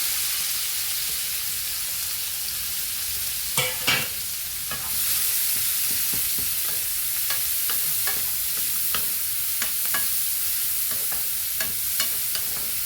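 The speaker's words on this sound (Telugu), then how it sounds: "ఇందులోకే ఆయిల్ వేసి తర్వాత వచ్చి ఉల్లిపాయలు, పచ్చిమిరపకాయలు వేస్తున్నానండి" Onions and green chillies frying in oil in a pan, a loud steady sizzle with brief stirring clatters and scrapes scattered throughout and the hiss swelling slightly midway, close up with no talking.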